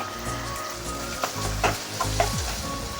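Beans, carrot, potato and green peas sautéing in hot oil in a pan, a close steady sizzle broken by several scraping stirs, with no voices.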